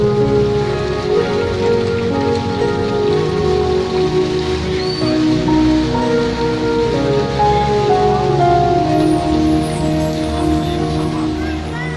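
Heavy rain pours steadily during a flood in Desa Pesawahan, Rawalo, Banyumas, a dense continuous roar of water. Broadcast music plays over it throughout, and no talking is heard.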